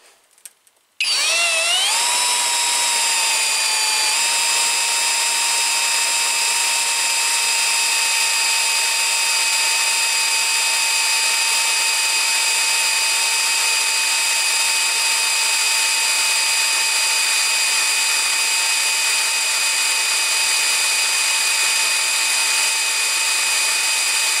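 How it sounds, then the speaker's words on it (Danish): A Skil 3071 cordless drill spins up and bores a hole, its steady whining motor running loud and continuous for over twenty seconds after a brief quiet start, with no talking. "Nu prøver vi lige at bore det første hul her."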